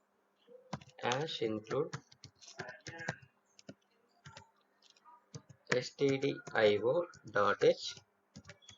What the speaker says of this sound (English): Click on the file menu, new option, type the program